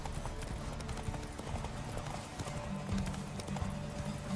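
Horse hooves clip-clop steadily at a quick gait in The Witcher 3: Wild Hunt, the dense rhythmic beats running throughout under game ambience, with faint voices in the background.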